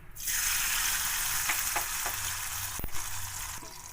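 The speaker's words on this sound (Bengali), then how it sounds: "তেল গরম হয়ে গেছে, এতে একটুখানি নুন দিয়ে দিলাম যাতে না ছিটে আসে" Hot mustard oil with a pinch of salt bursts into a steady sizzle in a pan, close and continuous, with a few light knocks and scrapes, no talking.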